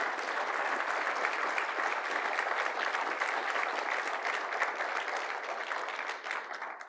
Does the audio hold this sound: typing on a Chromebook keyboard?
no